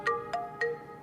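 A mobile phone ringtone rings in a domestic drama scene, sounding three short, evenly spaced tonal chimes close by and fairly loud, with no talking over them.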